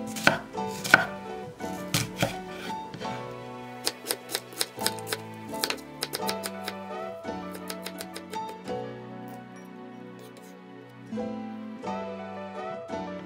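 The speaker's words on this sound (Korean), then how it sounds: "양파 4분의 1개는 작게 썰어줬다" A knife chops a quarter onion into small pieces on a board, with rapid crisp taps in quick runs and short pauses, close and clear with no talking.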